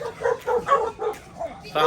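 A village dog in the Philippines barks repeatedly in quick, uneven bursts at moderate distance, several short woofs in under two seconds.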